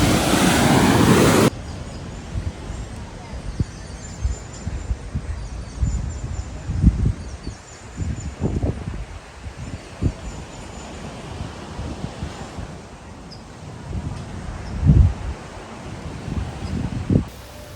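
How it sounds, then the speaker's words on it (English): Surf washing onto a beach in Barbados, a steady broadband wash with several louder breaking waves rising and falling over the stretch, heard alone with no voices. "I'll show you the beach."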